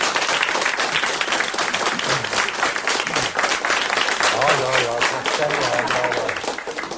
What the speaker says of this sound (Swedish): Jag fick ju nästan en lika lång applåd som du